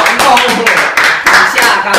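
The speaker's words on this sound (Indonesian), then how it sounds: "Kita dengan tepuk tangan pada Engkong." An audience claps for a guest speaker named Engkong, with loud, steady clapping running through the whole moment while voices speak over it.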